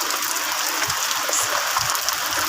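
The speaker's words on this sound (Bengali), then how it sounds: "এই দেখুন বৃষ্টি পড়ছে" Steady rain falling outdoors with gusty wind rustling leaves, a continuous broadband wash of drops heard close and fairly loud throughout, with a few soft low thumps and no talking.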